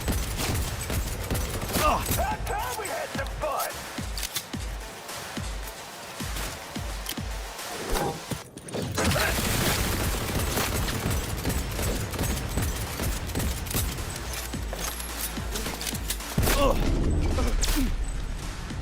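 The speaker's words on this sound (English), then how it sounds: "Someone's shooting me like through the floor." Gunfire in the video game Cyberpunk 2077, with rapid bursts of automatic shots, a short lull, then heavy sustained firing and booms, loud and close throughout.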